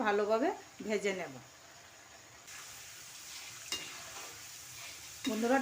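Lentils (dal) are stirred and fried in a pan, a faint soft sizzle with light scraping between stretches of someone speaking at the start and end.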